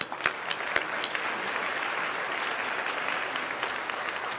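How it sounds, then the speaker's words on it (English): Steady applause from the audience at a city ceremony, a dense wash of many hands clapping at moderate distance with a few sharper claps standing out, sustained throughout with no talk. "So let's give him a round of applause."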